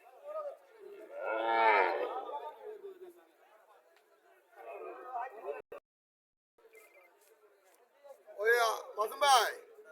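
A Nepali-breed dairy cow sold at a livestock market gives a long, loud moo, then a shorter call and two more moos near the end, with people chattering in the background.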